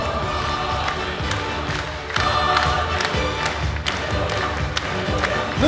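Audience applause and cheering at a children's concert for Black Sea sailors, greeting the youth ensembles Arabeski and Ulybka from Oryol: dense, steady clapping from a large crowd with scattered thuds and shouts, loud throughout.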